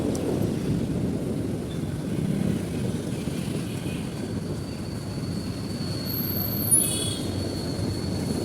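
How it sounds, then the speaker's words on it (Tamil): An Uday Express double-decker A/C train pulls into a station with a continuous low rumble of wheels on rails, and a brief thin metallic squeal rings out near the end. "நம்ம ட்ரெயின் ஒரு 6 நிமிஷம் டிலேவாக வந்துட்டு இருக்குங்க."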